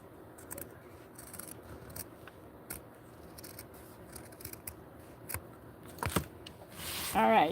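Scissors make faint, scattered snips while cutting fabric for a McCall's 8531 doll outfit set, close and quiet in a still room, with a louder rustle at the end.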